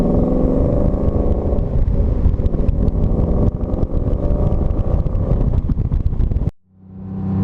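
Porsche GT3 sports car driving the Tail of the Dragon mountain switchback road, its engine a loud, continuous close drone throughout before cutting off abruptly near the end.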